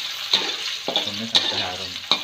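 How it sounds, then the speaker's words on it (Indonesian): Spices stir-fry in a pan over low heat, a hissing sizzle broken by several sharp spatula scrapes and clinks at irregular intervals, close and fairly loud. "Tumis sampai harum."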